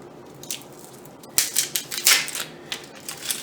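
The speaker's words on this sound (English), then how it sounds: "I'm going to peel the outer papery layer" An onion's dry, papery outer skin is peeled away by hand in a kitchen. Brittle crinkles and crackles come in quick, irregular bursts, with a close-up cluster in the middle, and no voices.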